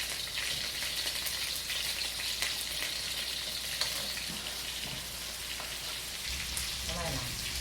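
Pork adobo sizzles and fries with butter in a pan, a steady dense crackle that holds for the whole stretch, loud and close, with a few faint stirring clatters near the end.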